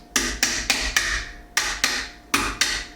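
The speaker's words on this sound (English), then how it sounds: "you might have to take a hammer or something" A hammer taps an Ultimak scout rail onto an AK-47: seven sharp, close metallic strikes in two quick bursts, each ringing briefly before the next, with no talking.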